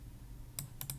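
A few quick, quiet plastic key clicks on a computer keyboard as a Ctrl+R shortcut is pressed, three short taps close together over a low background hum.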